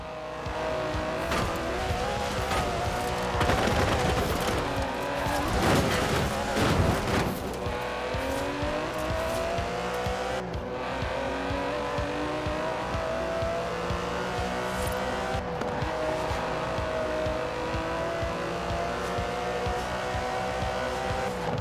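Aston Martin DB11 with a 5.2-litre twin-turbo V12 in the Forza Horizon 4 video game, engine droning steadily at speed with rising and falling revs, a few bursts of tire noise early on, loud and continuous without talk.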